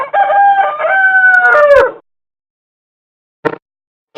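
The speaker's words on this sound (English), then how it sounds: "rooster" A rooster crows one long, loud cock-a-doodle-doo close by, rising and then holding a drawn-out note for about two seconds; a brief, separate sound follows after a pause.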